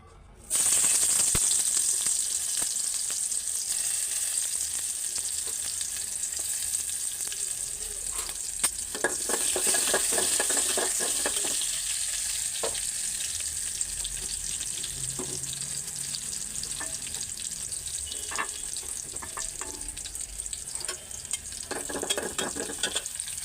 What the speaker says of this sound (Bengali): রসুন আর পাঁচ ফোড়নটা ছেড়ে দিই তেলে